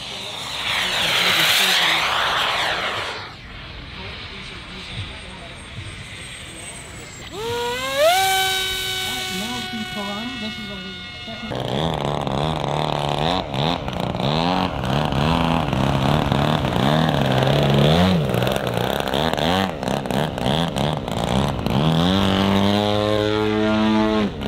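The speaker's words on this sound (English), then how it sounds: "Scale helicopters, three helicopters, jets, big planes, like everything, y'all." Radio-controlled scale model aircraft fly at a fly-in demo, their propeller and engine whine rising and falling in loud, sustained passes, with rising pitch sweeps and some background voices.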